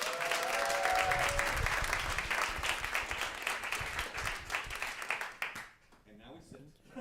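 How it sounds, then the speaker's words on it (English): A crowd applauds guests at a panel on Asian American pop culture history, with loud, sustained clapping that fades near the end, and voices talking over the noise. "Let's give a big round of applause for our guests."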